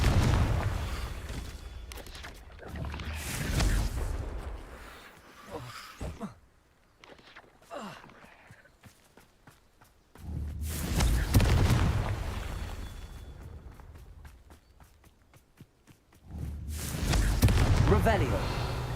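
Blasting spell explosions erupt in Hogwarts Legacy, with several heavy, booming bursts separated by quieter stretches of game ambience and small crackles.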